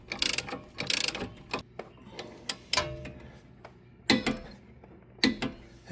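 A hand ratchet tightens a lower front suspension bolt on a Jaguar XK8, giving bursts of close, crisp clicking strokes with short pauses between them and a few louder clunks.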